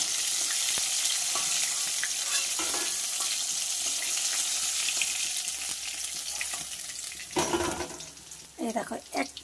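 Loitta fish pieces fry in a pan with a loud, constant hiss and crackle of hot oil, close up. A few clattering knocks of handling break through near the end.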